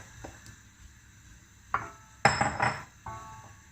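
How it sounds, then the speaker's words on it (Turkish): A few scattered clunks and clinks as plums drop into a metal pot, with quiet moments in between and a louder cluster near the middle. "Tencereme ayıkladığımız bu erikleri alıyorum."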